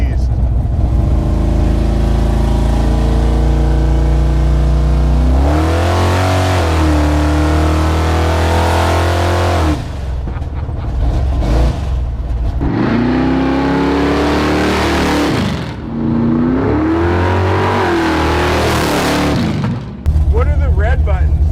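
A 1970 Chevelle V8 with custom Lemons headers revs hard, loud and close, with deep rising and falling throttle blips and a rough idle between them.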